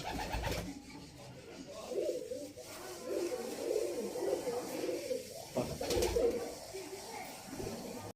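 A pair of pigeons, a hen and a cock, cooing softly in repeated low throaty burbles close by, with someone talking quietly over them.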